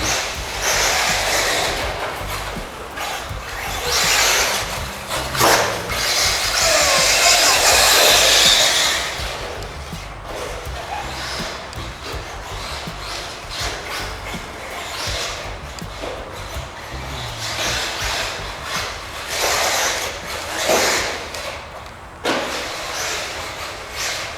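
A remote control car races around an outdoor track, its high-pitched electric whine rising and falling continuously, loudest in a sustained burst partway through, with no talking.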